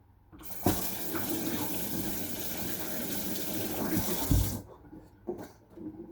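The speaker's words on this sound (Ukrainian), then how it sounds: "Мандарин я помию." Tap water runs steadily as a mandarin is washed under it in a kitchen sink, a continuous close gush with a few splashy bumps before the flow stops and small handling noises follow.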